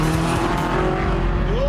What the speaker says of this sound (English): also get a funny little noise from the wastegate when you take your foot off the accelerator